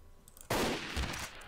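A single sharp, loud AWP sniper rifle shot fires in Garry's Mod, cutting in suddenly after a quiet lead-in and ringing out briefly with a short tail.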